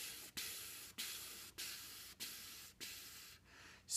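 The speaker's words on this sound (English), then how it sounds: "Let's practice with just our air" Trumpet-practice breath blown as one continuous stream and chopped by the tongue into six even, evenly spaced hissing pulses, close and fairly soft, with a brief gap and a sharp final puff.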